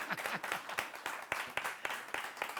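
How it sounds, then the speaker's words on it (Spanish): A small group claps in a lively burst of applause, sharp overlapping hand claps at a quick, uneven rhythm, fairly close. "Así es, el aplauso."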